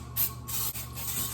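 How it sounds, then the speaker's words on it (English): Cooking spray misted onto two 8-inch cake pans in two short hissing bursts, close and fairly soft, with no talk. "Now I just need to spray the pans down."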